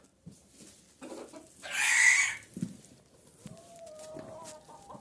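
Chickens and bantams at a farm coop with turkeys nearby, giving scattered soft clucks and one louder drawn-out squawk near the middle, close by and without speech.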